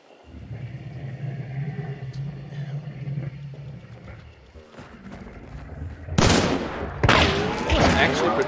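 Heavy gunfire in the game Hunt: Showdown, with loud, dense bursts of shots from about six seconds on, following quieter ambient rumble and scattered distant shots, with a voice talking over parts of it.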